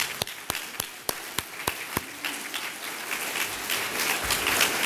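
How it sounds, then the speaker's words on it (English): Audience at a GOP Lincoln-Reagan dinner in Calloway County, Kentucky, applauds standing county chairs: a few distinct, evenly spaced claps at first, then a fuller, steady round of clapping that swells and carries to the end. "let's give them a round of applause"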